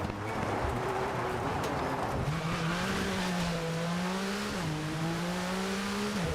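Rally car racing on a wet track in the V-Rally 4 video game: a loud, close engine rises and shifts pitch through gear changes, with tire noise and a steady rushing wash beneath, no talk.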